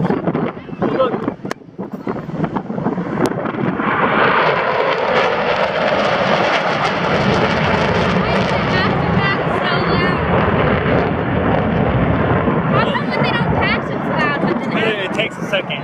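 Blue Angels jets roar past at an airshow, a loud broad rushing wash that swells after a few seconds and holds steadily, mixed with wind buffeting on the microphone and occasional voices.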